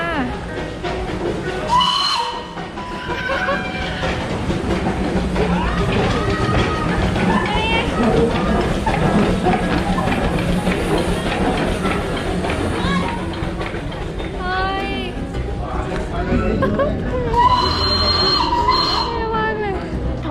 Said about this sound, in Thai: เป็นรถไฟของเล่น แต่นั่งได้จริง